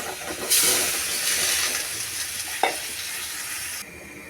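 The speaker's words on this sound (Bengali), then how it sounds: "মশলা কষানো হয়েছে এখন আমি সবজি দিয়ে দেব" Vegetables frying with spice paste in a pan for a home-cooked lunch, a loud steady sizzle and hiss with stirring scrapes and one sharp clink.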